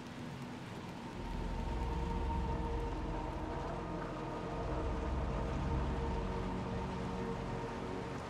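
Steady rain hisses in the video game Little Nightmares 2, a broad wash of falling water with a low rumble that swells after the first second and stays even.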